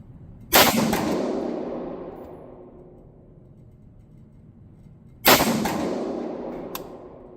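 Two sharp shots from a Cru Arms TEMP556 piston-driven .22 rifle firing Federal ammunition, several seconds apart, each a loud crack with a long decaying outdoor tail.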